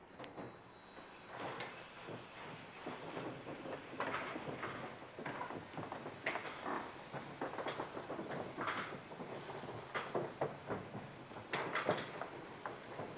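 Roll-up garage door rolling down after an opener install, a faint rattling and clattering of metal slats with irregular knocks continuing steadily throughout.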